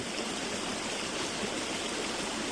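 Brook running through a Vermont maple orchard, a steady broadband rush of flowing water that is close and continuous, with no voices.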